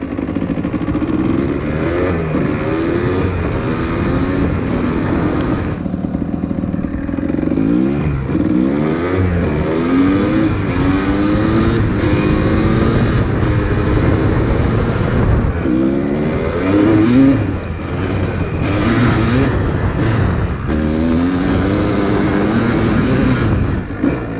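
A two-stroke motorcycle engine, rejetted but still running rich, idles loud and close with a raspy, buzzing drone that swells in a few gentle rises as the idle is turned up.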